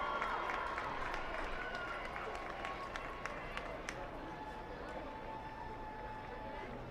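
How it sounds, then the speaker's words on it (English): A crowd at a high school football game claps and cheers in a broad outdoor stadium, a steady wash of applause that slowly fades to scattered claps. "Give a round of applause for Dr. Jay Thomas."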